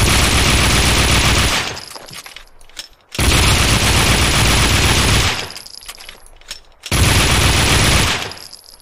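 Gunfire in Max Payne 2 on PC, three loud sustained bursts of rapid shots, each lasting one to two seconds with quieter gaps between them.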